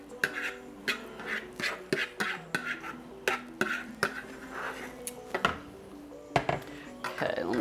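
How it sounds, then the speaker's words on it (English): A spoon stirs white chicken chili in a crock pot, scraping and clinking against the pot in a steady series of sharp knocks, close and fairly quiet. "let me stir that around"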